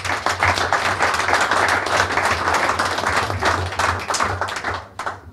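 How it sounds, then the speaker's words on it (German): Audience applause at a public talk held at a regulars' table gathering, a dense steady clapping from a crowd that fills the whole stretch and fades near the end, with a low hum underneath. "Nochmal einen herzlichen Applaus."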